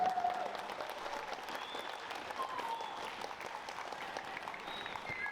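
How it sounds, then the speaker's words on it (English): An audience at a tribute event in Port Moresby gives a round of applause, a sustained, even wash of clapping heard from a distance, with no one speaking over it. "I just want all of us to give a round of applause to Governor Pakop"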